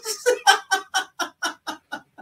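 Chickens clucking in a steady series of about ten short, evenly spaced calls, close and fairly loud, with no talking over them.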